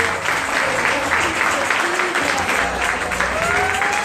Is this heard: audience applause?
yes